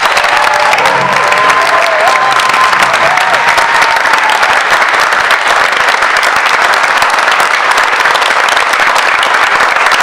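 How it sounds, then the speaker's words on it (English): Loud, sustained applause at a Hoboken Board of Education meeting for people honored there, a dense roar of many hands clapping continuously, with faint crowd noise and a brief voice near the start. "one large and your loudest clap for everyone that was honored here today,"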